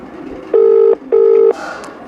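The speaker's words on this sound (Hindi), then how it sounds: "पवन सिंह के बाद फोन लग चुका है" Two loud, steady electronic telephone tones sound in quick succession, each lasting under half a second, with a short gap between them.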